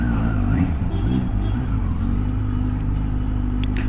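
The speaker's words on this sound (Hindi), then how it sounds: "बाइक चालू कर दिए भाई, अभी यह हुआ स्टार्टर स्टार्ट" A Kawasaki Z900 motorcycle idles and rides on a night street, its engine giving a loud, steady low rumble with a few revs near the start, heard up close and without speech.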